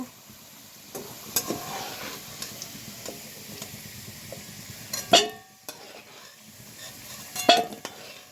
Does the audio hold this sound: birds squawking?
no